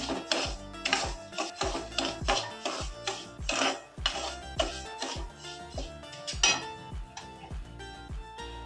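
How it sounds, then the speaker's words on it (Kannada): Semolina is being dry-roasted on a low flame and stirred in a pan for chow chow bath upma. A utensil clinks and taps against the pan in quick, uneven strokes, close and fairly loud, with no voices. "ಸಣ್ಣ ಉರಿಯಲ್ಲಿ ಒಂದು 5 ನಿಮಿಷ ಕೆಂಪುಗಾಗಂಗೆ ಹುರ್ಕೊಬೇಕು"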